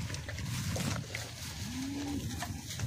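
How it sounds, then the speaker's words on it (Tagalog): Water buffalo (carabao) on a rural Philippine farm gives a single low, drawn-out moo midway through, heard over steady outdoor background noise. "Ito yung mga kalabaw namin."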